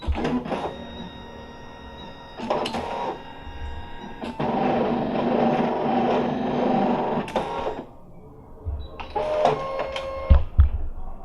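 A Brother ScanNCut CM650 cutting machine slices EVA foam with a purple blade, a mechanical whirring and buzzing of the carriage in several bursts and pauses, with soft clicks between passes.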